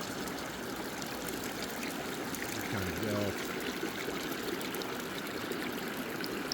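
The Swift River at Coos Canyon in Byron, Maine flows in a steady broadband rush, continuous and fairly loud throughout, with a brief spoken phrase from a nearby person partway through.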